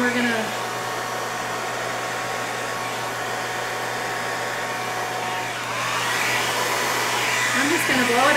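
A hair dryer blows steadily and loudly for the whole stretch, a continuous rushing whoosh with a low motor hum, briefly shifting in tone near the end as the airflow is redirected.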